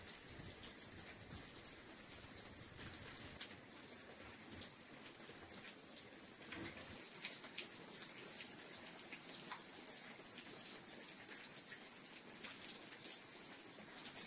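Light rain falls outdoors in Greece, a soft steady patter of drops on surfaces, faint and even throughout with no voices.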